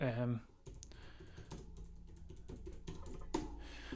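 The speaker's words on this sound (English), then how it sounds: "apologies if you hear very loud typing" Rapid, loud typing on a computer keyboard clatters close up in an irregular run of clicks and taps, following a brief burst of speech at the start.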